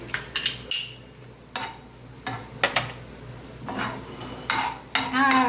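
Onions tipped into hot garlic oil on an iron tawa for street-style Maggi, with sharp metal clatters and scraping stirs over a steady low sizzle, loud and close, bursts of spatula knocks spread across the moment.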